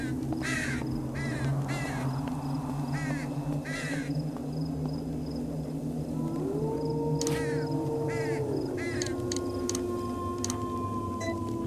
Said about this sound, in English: Tell me those birds aren't going to attack.